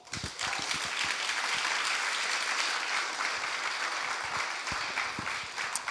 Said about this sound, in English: would you give a huge round of applause for Mr.